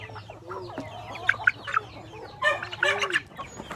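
Native chickens and chicks cluck and chirp close by in short, irregular bursts of soft and sharper calls, over a low steady hum.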